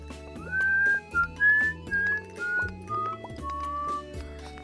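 A person whistles a short melody of sliding, clear notes close to the microphone, with soft Stardew Valley game music running underneath.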